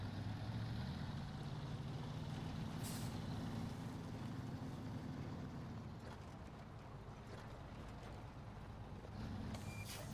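Truck engine grinding along in the video game Snowrunner, a steady low growl with a couple of brief hissing bursts, quiet overall and alone with no talking.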